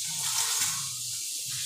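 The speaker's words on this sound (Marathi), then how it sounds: "पोह्यांवर थोडंसं पाणी शिंपडलं जातं आहे, ज्याच्यामुळे पोहे ओलसर होतील." Water splashed onto poha flakes while making kanda poha, a short hissing spray close by, over a faint low rumble.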